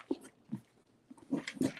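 A pet dog whimpers and whines in short, soft bursts, with a few breathy yips spaced across the moment, close by in a quiet indoor room.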